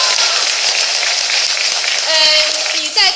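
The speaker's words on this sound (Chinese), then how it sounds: "就让我们的掌声来得更猛烈一些" Enthusiastic theatre audience applause after a Yue opera performance, a steady roar of clapping with a voice speaking over it near the end.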